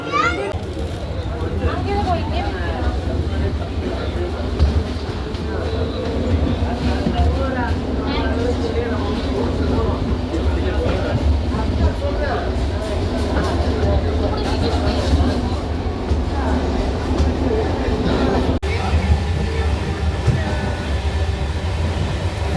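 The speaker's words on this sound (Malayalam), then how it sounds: "അങ്ങനെ ഞങ്ങൾ ട്രെയിനൊക്കെ കയറി." Passenger train travelling from Palakkad toward Chennai, heard from inside the carriage as a continuous low rumble and rattle of the wagons, with children playing and people chattering throughout.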